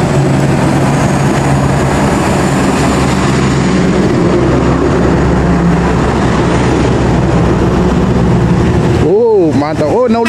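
A PMH Indra Bersinar bus driving in a convoy of buses heading into Pekanbaru, its engine a loud, steady rumble with road noise close up, while people talk throughout.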